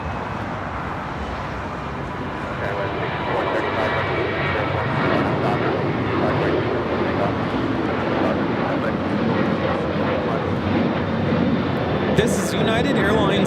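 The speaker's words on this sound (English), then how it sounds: "1791 taking off to San Francisco on the 737-900ER." A United Airlines Boeing 737-900ER taking off at LAX, its jet engines a broad, steady roar that swells slightly and holds, heard from a distance with a faint click near the end.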